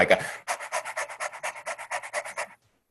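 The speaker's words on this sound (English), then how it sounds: "she's a pug, so you can definitely hear her breathing." Rapid, rhythmic raspy breaths from a pug, about a dozen quick snorting pants in a steady run, close and fairly loud, then stopping abruptly.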